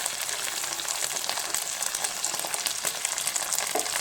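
Egg chilli frying in a pan after chilli sauce and soy sauce go in: a loud, steady, crackling sizzle with bubbling and light stirring sounds, continuous throughout, no voices.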